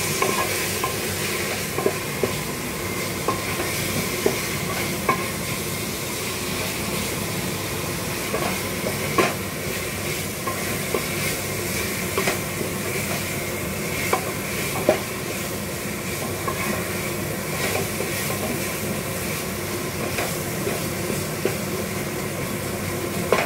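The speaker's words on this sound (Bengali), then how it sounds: "মশলাটা অর্ধেক ভাজা হয়ে গেছে," Spices for a chicken curry with papaya, including Kashmiri chilli powder, stir-fry in a pan, giving a steady frying hiss with scraping strokes and occasional sharper clicks from the spatula, close and continuous with no talking.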